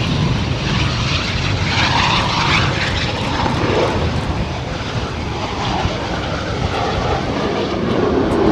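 Loud, steady roar of an RAF Typhoon jet at RAF Coningsby, a broad rumbling engine noise that holds constant throughout without pause, close and dominant with no talking.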